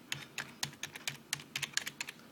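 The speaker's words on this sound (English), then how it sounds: "you can click the arrow keys on the keyboard" Arrow keys on a computer keyboard tapped repeatedly, a string of about a dozen crisp, close clicks in an uneven rhythm, alone without talk.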